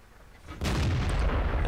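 Tank cannon firing in World of Tanks as a T20, a single sharp boom that rolls into a sustained rumbling decay, heard alone.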